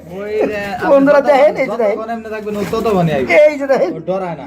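A pair of German Modern pigeons cooing in a loft, close throaty rolling coos repeating in quick bursts while someone talks over them.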